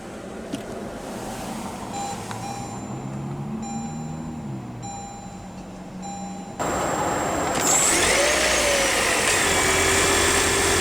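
A 2018 Toyota Prius Four hybrid starting with its push-button ignition: quiet cabin hum and soft beeps, then a sudden jump to a louder, steady running drone with a rising whine, heard from inside the car.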